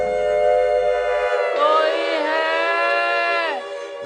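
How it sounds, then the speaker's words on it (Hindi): A steamer's horn sounds in heavy rain, a long steady tonal blast that swells louder midway and then fades, heard alone without talk. "ये स्टीमर की आवाज है, स्टीमर आया है।"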